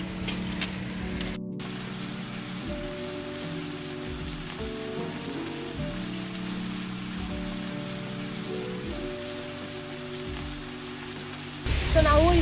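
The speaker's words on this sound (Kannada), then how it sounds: "ಮಳೆ ಬರ್ತಾ ಇದೆ." Steady monsoon rain falls during a trek near Sakleshpura, a dense constant patter on surfaces with some rhythmic low thumps beneath, close and unbroken, swelling slightly louder at the very end.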